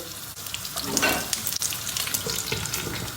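Eggplant pieces hit hot oil in a pan and burst into a loud, dense, steady sizzle that crackles and spits close by for the whole stretch, with no voices.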